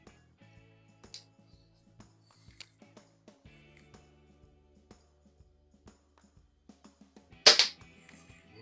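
Vintage Haenel model 28 or Webley Mark 1 air pistol firing, one sharp loud crack standing out alone from a quiet run of small clicks and handling noises.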